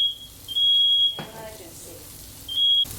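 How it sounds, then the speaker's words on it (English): Smoke alarm in a kitchen where spicy Italian meatballs are frying, sounding a sustained high electronic tone in two long bursts with a gap between, while frying sizzle and faint clatter carry on underneath. "Fire alarms, great"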